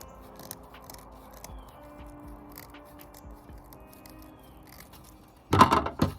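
Scissors snip through garden plant stems in a short, loud burst of cutting near the end, after several seconds of faint, quiet background.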